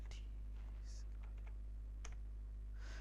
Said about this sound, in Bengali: এখানে যদি আমি একটু লিখে সার্চ করি